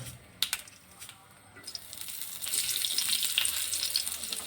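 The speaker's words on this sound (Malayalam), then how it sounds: "കടുകൊക്കെ പൊട്ടി വരട്ടെ" Mustard seeds splutter in hot oil in a pan, starting with scattered pops and building into a dense, close, continuous crackling sizzle.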